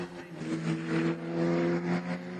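Formula Regional Americas race cars roar around Canadian Tire Motorsport Park, their engines droning loud and steady with swelling revs as they pass.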